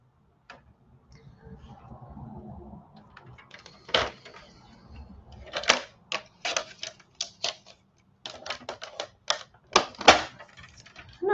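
Sharp, irregular snips and clicks of card being cut for a pop-up star explosion card, close and distinct with short pauses between cuts, faint rustling underneath.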